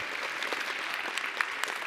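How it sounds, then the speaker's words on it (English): Steady applause from a crowd, a dense wash of clapping with a few sharper individual claps standing out. "huge round of applause and huge thanks to her."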